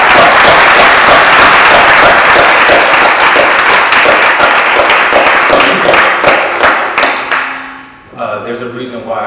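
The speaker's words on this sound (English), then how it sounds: "So let's give yourselves a round of applause." A large audience at a foundation event breaks into a loud, sustained round of applause, with dense clapping that thins into scattered claps and a few voices near the end.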